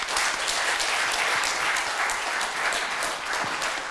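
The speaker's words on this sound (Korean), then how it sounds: "우리 박수 한번 좀 부탁드리겠습니다" Steady, lively applause from an audience at a Korean imagination forum, dense and even for several seconds with no talking over it.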